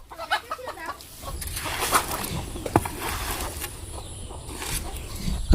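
Chickens on a Bangladeshi farm cluck and call in short, scattered bursts against a busy outdoor background, fairly close but not loud, with no talking.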